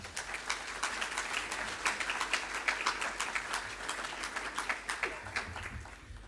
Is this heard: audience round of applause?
yes